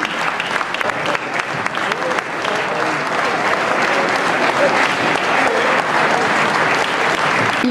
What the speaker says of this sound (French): venez là, qu'on puisse vous applaudir comme vous le méritez